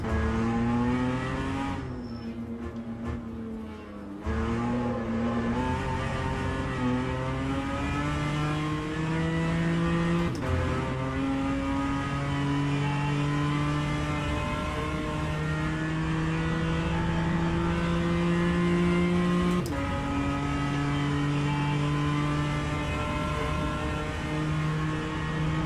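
A race car engine in the rFactor 2 racing game drones continuously, its pitch climbing and dropping through gear changes with brief lifts off the throttle, steady and close, resembling a London Underground train.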